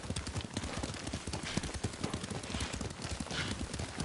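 Horse hooves in the video game Ghost of Tsushima clop in a fast, continuous rhythm under a steady wash of movement noise, like a horse cantering along.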